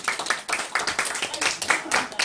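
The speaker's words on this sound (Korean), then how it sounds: "박수 쳐도 되지 않을까요?" Audience clapping at a talk or lecture, a burst of close, uneven hand claps with a speaking voice mixed in under the claps.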